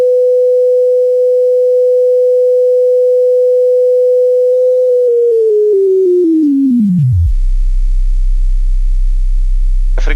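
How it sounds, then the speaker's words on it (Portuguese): A steady pure sine tone plays in a physics lesson on waves, holding one pitch for several seconds and then gliding steadily down to a very low hum, loud and alone with no talk. "A frequência do som baixo, ó."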